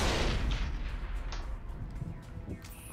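Grenades detonate in the Mass Effect video game, opening with a heavy, booming blast that rumbles and slowly fades, with smaller bursts trailing after it.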